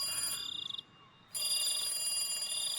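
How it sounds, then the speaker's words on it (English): A telephone rings inside the Higurashi visual novel game, sounding as a steady high repeating trill that stops briefly and then resumes, clear and alone with no talk. "After a while, I finally realized the phone's ringing"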